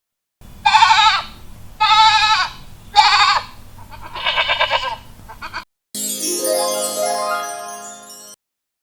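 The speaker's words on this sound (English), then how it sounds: "Number 2 is goat. It makes bleat sound." Goat bleats from a farm animal, several loud, wavering cries in a row close to the listener, followed by a longer, drawn-out bleat, with no talking.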